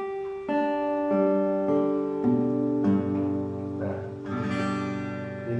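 An acoustic guitar plays a series of chords, each strum ringing out clearly with sustained, resonant strings, several strums in succession at moderate volume.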